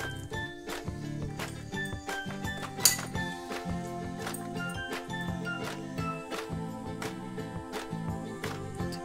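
A metal spoon clinks repeatedly against a dish or pot while spice mix is stuffed into eggplants for bharwa baingan, a steady run of light taps and clicks close by with a brief sharper clink, no talking.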